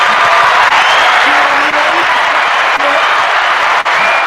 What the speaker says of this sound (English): Don't cut off the applause for mom